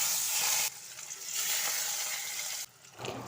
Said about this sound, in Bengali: মাছের এক পিঠটা ভাজা হয়ে গেছে, অপর পিঠটা এবার উল্টে নেব।